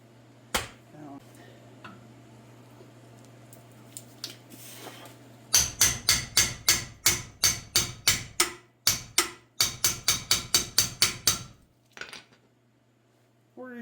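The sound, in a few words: hammering on metal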